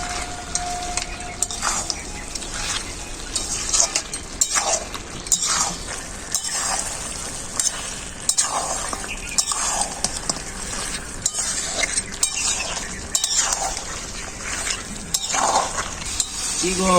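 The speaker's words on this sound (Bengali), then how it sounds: "কি রান্না হচ্ছে? খাসির মাংস।" Goat meat fries in a pan with ground spice paste and turmeric, sizzling steadily while a utensil stirs and scrapes with repeated clinks against the metal pan throughout.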